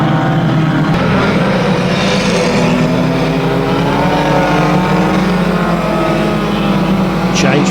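1300 stock cars racing around the Kings Lynn oval, a dense continuous roar of many engines at steady high volume with whining tones rising and falling as cars pass, with no break throughout.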